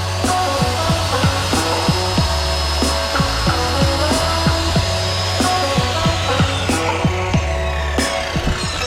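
A hand saw cuts through wood to build a skateboard rack, a rapid series of rasping strokes in an even back-and-forth rhythm at close range, over a steady background hum.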